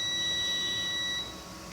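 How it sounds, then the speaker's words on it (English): A digital multimeter in continuity mode gives a steady electronic beep as a magnetic float sensor's contacts short. The tone is clear and continuous for about a second, then cuts off, with no talk over it. "As you can see, the meter is beeping. It means it is short now"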